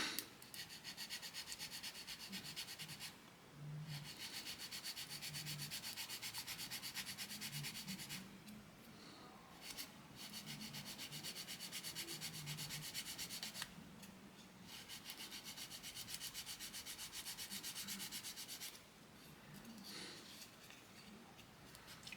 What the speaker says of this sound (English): Let's sand that off a minute.